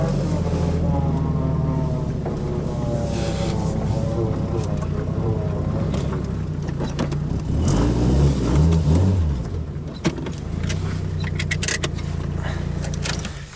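A Honda-swapped Nissan 240SX, stock apart from a blown-out strut, idles and creeps out of a shop, its engine a steady rumble with a brief rev swell midway, while people talk nearby.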